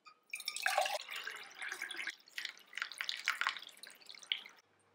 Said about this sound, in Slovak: Ja si tam nalejem vodu nejak od oka